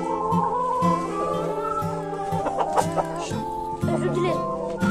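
Chickens clucking with harmonic, voice-like calls, a rooster's tone mixed in, steady and fairly close with some talking underneath.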